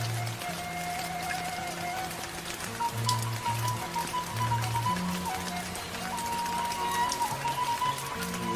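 Rain falls steadily on an outdoor surface during fishing, a continuous even hiss with some tonal background hum and faint voices or sounds scattered under it.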